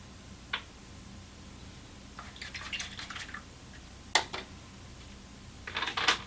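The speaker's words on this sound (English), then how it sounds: "Rinse my brush." A paintbrush rinsed in a container of water while painting, a few close, light splashy swishes and drips in short bursts against a quiet room, with no talking.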